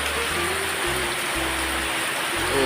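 Heavy rain pours at a roadside in a dense, continuous hiss, with low intermittent rumbling beneath the steady downpour.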